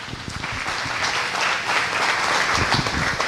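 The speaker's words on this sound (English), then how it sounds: "please give him a huge round of applause" A business-community luncheon crowd gives Trey Kramer a big round of applause, dense steady clapping filling the room at even loudness throughout.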